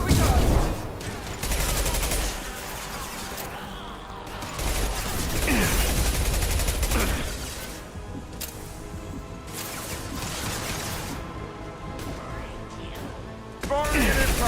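Impact gun shots ring out in Mass Effect 2, a run of sharp bursts and crashing impacts over a dense game soundscape, with a person talking at times above the action.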